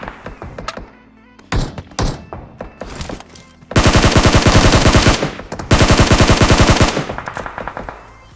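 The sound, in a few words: gunfire from video game PUBG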